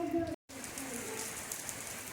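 Heavy rain with big drops falls on a village during a downpour, a fairly quiet, steady hiss broken by a very short dropout, with a faint voice and tonal hum at the start.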